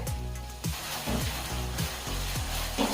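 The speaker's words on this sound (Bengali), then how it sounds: "এবারে এগুলো একটু ভেজে নেবো যাতে করে পেঁয়াজ আদা রসুনের কাঁচা গন্ধটা চলে যায়" Onion, ginger and garlic paste frying in a pan, a steady close sizzle with a few soft scraping stirs running through it.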